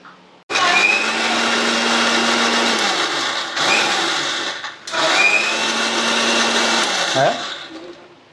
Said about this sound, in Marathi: आपण टमाटर आता बारीक करतोय मिक्सरमध्ये